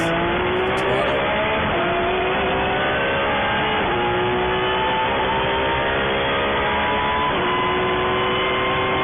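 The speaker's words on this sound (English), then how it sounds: "Coming into frame soon will be the blue and orange Porsche 911." A blue and orange Porsche 911 race car at a FARA Memorial 300 endurance race, its engine droning steadily with shifting pitch over roughly nine seconds, loud and continuous as it passes along the track.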